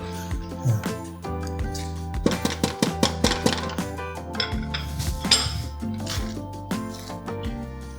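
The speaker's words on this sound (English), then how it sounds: "I'm going to stir." A spoon stirs Gruyere cheese into a sauce in a pot while making Martha Stewart's mac and cheese, with repeated metallic clinks and scrapes against the pot over a low steady hum, some strokes bunched together.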